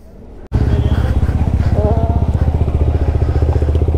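A motorcycle engine catches abruptly and then runs with a loud, close, rapid throbbing putter that stays steady, and a voice speaks briefly over the engine.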